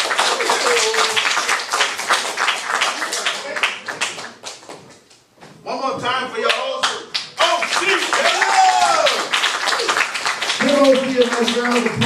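A Times Square comedy club audience claps and applauds for a comedian, with steady close applause running beneath a host's loud, excited speech.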